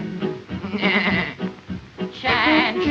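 A nanny goat bleats twice in quick, wavering cries over a lively 1940s musical comedy song arrangement, the bleats loud and close and set against the band.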